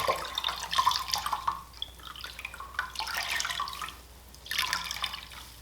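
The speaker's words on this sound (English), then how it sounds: "wring the excess water out of this yarn" Water splatters and drips in several bursts as wet yarn is squeezed, with brief quieter pauses between the trickles.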